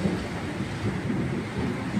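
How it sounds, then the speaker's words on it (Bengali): Steady, heavy rain pours without pause during a thunderstorm, a dense low rumble running underneath throughout; no voices are heard. "বাইরে তো প্রচুর জোরে জোরে বৃষ্টি হচ্ছে, বিদ্যুৎ চমকাচ্ছে"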